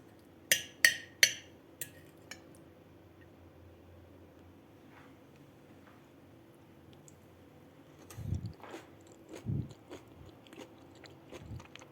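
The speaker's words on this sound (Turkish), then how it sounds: "Şimdi sizler için tadıyorum." Someone takes crisp, crunchy bites of a carrot tarator meze, three sharp crunches close together at the start, then quieter chewing with a couple of louder mouthfuls later in near silence.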